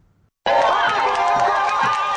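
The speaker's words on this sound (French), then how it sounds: "Cette foule en liesse s'attend visiblement à une bonne nouvelle de la part de leur hôte." A jubilant crowd awaiting good news from their host bursts into loud, sustained cheering after a brief near-silent moment, a dense roar of many voices that carries on steadily to the end.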